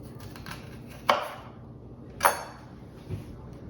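A knife cuts through the end of a zucchini on a cutting board, giving two sharp, close chopping thuds about a second apart, followed by a softer knock.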